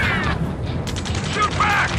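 Gunfire crackles through a battle in the video game Ace Combat 7 during a rescue mission, sustained bursts layered with explosions and busy combat noise throughout, with radio-style voices calling out over the fighting.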